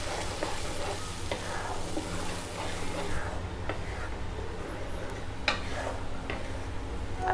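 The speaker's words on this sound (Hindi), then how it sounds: "अब इसमें डाल देते हैं चटनी। मैं यहाँ घी का यूज कर रही हूँ" Tomato chutney sizzling steadily in hot ghee in a pan over cumin seeds, with a spoon scraping and stirring and occasional ticks and clinks, close and continuous.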